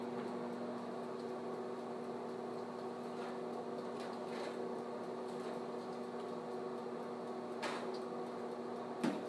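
A microwave oven hums steadily while heating food, a low even drone with a faint whine, close by, plus a couple of soft clicks and a small knock at the end.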